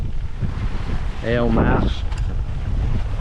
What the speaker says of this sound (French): On a un vent de 10 nœuds.